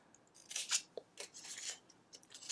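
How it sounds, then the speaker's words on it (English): Scissors cut cardstock at an angle for an Easter explosion box, giving a few quiet, crisp snips and slicing rustles close by in an otherwise silent room. "So basically what you do here is you cut it at an angle"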